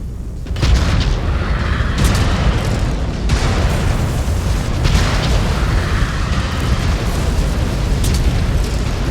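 A destroyed mech exploding in the video game MechWarrior 5 Clans, a loud, sustained roaring boom with rumbling blasts that swell and roll on for several seconds, filling the sound alone without speech.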